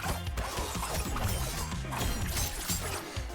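Fighting-game combat from Mortal Kombat 1 plays, with Shang Tsung landing an EX move: heavy booming impacts and crashes hit over busy effects, some strikes sharp and others dull, all at a fairly constant level.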